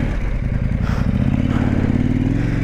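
KTM 890 Adventure motorcycle throttling up hard in deep sand, a loud, close, continuous engine roar with clattering and scraping layered on top.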